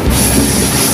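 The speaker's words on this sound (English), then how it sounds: "Now I just arrived at Rockville train station right now." A train at Rockville train station in Sydney, with a loud, steady rumble and hiss of rail cars filling the short moment, with no talking.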